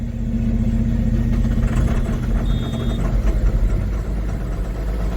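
A pickup truck engine cranking and catching after a jump-start in extreme Arctic cold, about 50 below, on a ranch, a loud close rumbling labor that settles into a steady rough idle.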